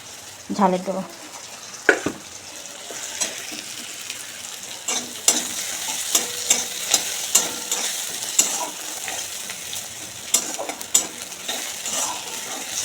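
A fish curry with onion and tomato sizzles and bubbles in a pan under repeated clinks and scrapes of a spoon stirring against metal, close and fairly loud.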